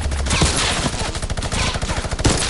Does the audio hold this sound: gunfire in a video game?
yes